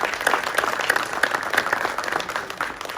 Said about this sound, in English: Let's give a round of applause for Congressman Rogers fighting for these dollars.